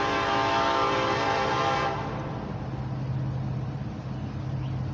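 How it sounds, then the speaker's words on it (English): A train rolls past close by, loud and steady with a bright horn-like tone in the first two seconds, then a lower rumble of wheels and cars carrying on alone. "Sorry, a train's driving by."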